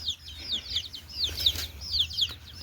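Chickens cluck and chirp in quick repeated high-pitched calls at a homestay near the Sunkoshi river in Nepal, fairly faint over a low steady hum.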